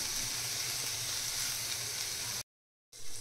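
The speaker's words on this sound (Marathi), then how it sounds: "आपण आता हे छान तेलामध्ये छान फ्राय करून घेणार आहोत" Millet recipe ingredients frying in oil with salt, a continuous even sizzle held close and steady, then a sudden brief silence before the hiss resumes.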